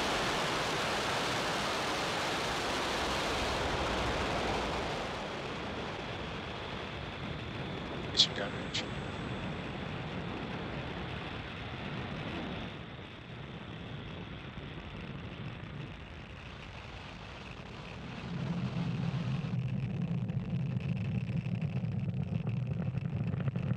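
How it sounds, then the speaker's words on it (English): A SpaceX Falcon 9 lifts off from Pad 40 at Cape Canaveral Space Force Station carrying 56 Starlink satellites, engines at full power, producing a continuous heavy broadband roar that fades slightly, then swells again into a deep rumble. "Falcon 9 has successfully lifted off from Pad 40 at Cape Canaveral Space Force Station, carrying 56 Starlink satellites"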